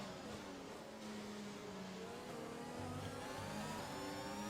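Formula 1 car engine from the F1 2021 video game at the Azerbaijan circuit, revving steadily and loudly with shifting pitch through a brief oversteer moment, continuous with no talk.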